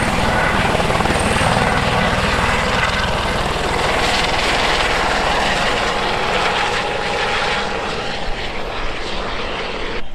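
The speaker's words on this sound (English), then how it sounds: "You can even see it by air in a helicopter." A helicopter drones steadily and loudly overhead along Australia's Great Ocean Road, its rotor thumping in a constant chop with no pauses.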